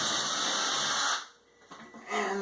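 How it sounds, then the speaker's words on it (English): A power drill whines loudly for about a second as it bores a pilot hole into wood to mount a toilet grab rail, then winds down and briefly spins up again. "These I'm going to go ahead and drill with a smaller size drill than the screw"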